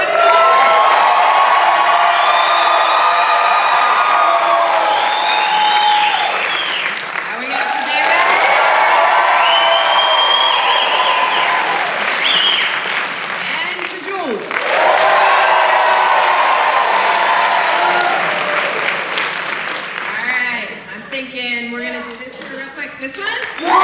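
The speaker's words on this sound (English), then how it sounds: "Round of applause." Audience at an Ignite Fort Collins karaoke event applauds and cheers in repeated loud waves, with whoops and crowd voices mixed in, broken by brief dips before a final burst.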